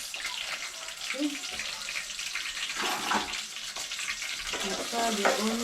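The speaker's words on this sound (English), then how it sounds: "stir the onions" Onions sizzle and fry in a pot while being stirred for Jamaican curry chicken, a steady hiss with occasional scraping of the spoon and faint voices in the background.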